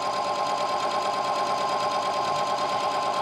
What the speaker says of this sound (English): I can just stitch right along there